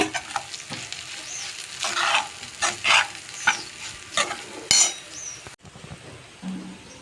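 Cooked rice tossed into a hot pan with beans and spices for egg rice, stirred with repeated scraping strokes and clinks of the spatula over a light sizzle, the scrapes coming in uneven bursts, loud and close.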